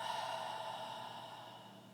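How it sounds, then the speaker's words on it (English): A calm guided-meditation exhale, a single long, soft breath fading away steadily over a couple of seconds, quiet and close. "Take another deep breath in and exhale"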